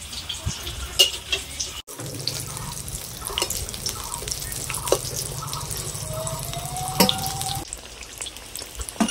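Stuffed ash gourd chops frying in oil, a steady soft sizzle and crackle running throughout with a few light clinks and scrapes from a utensil, close by and moderately quiet.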